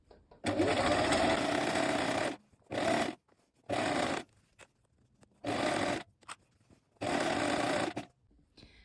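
A domestic sewing machine runs a second gathering line of stitches on a dress, in five separate bursts of varying length with quiet gaps between them, close and clear.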